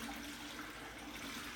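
Water running steadily to rinse foam off brewing equipment, a close, even hiss and splash with no pauses.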